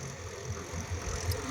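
A 855 tractor pulls a rotavator through a field during the busy planting season, its engine a steady low rumble that is moderately distant and fairly quiet throughout.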